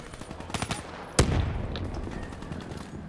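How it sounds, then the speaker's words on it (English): In Black Ops 3 gameplay, a sharp, loud gunshot cracks out after a few quieter distant pops, followed by a lingering rumble and scattered faint shots in the background. "I'm hearing our team gunfire"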